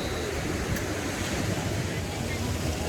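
Ocean waves break continuously on Koura Beach in Japan, a dense, steady wash of surf with wind buffeting the microphone throughout.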